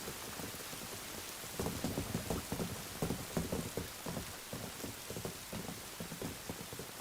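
Heavy rain pours steadily in an anime street scene, a dense loud hiss with a low rumble of thunder swelling midway, no voices over it.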